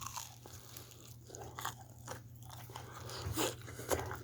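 Roasted chestnuts are bitten and chewed close up, with a few crisp crunches and soft mastication over a quiet indoor hum.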